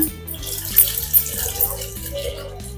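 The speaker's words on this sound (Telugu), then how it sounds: "మనం ఇందులో వాటర్ పోసుకుందాం" Water poured into a pan of tamarind fish curry in a home kitchen gives a soft, gurgling splash with a few brighter spattering bursts, heard over a faint tonal background.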